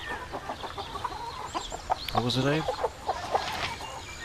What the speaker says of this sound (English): Okay, that's the chickens they're talking about.